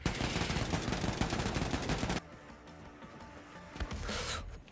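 Rapid sniper and automatic gunfire in Wolfenstein 2 on its hardest difficulty crackles loud and dense for about two seconds, then drops to quieter ambient game sound before another burst of noise near the end.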